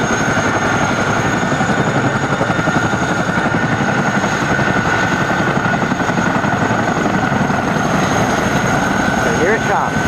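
Boeing CH-47D Chinook twin-rotor helicopter arrives at Castle Air Museum, its loud, steady rotor thrum and engine whine filling the scene without a break.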